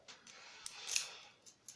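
A key works inside a padlock core, giving a few light metallic clicks and a brief rattling jiggle, close and quiet, spread over a couple of seconds.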